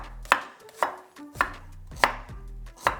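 A knife slices onions thin on a cutting board for crispy onion topping, five evenly spaced crisp cuts with board knocks, close and alone.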